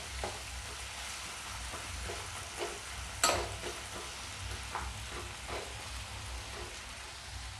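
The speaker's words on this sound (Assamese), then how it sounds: "5-6 মিনিট এনেকুৱা ফ্ৰাই কৰিম একদম ব্ৰাউন কালাৰ হোৱাৰ পিছত বাকি মছলাখিনি এড কৰিম" Masala for chana masala fries in a hot pan while being stirred, a steady close sizzle with periodic scraping strokes of the spoon throughout and one sharper clatter midway.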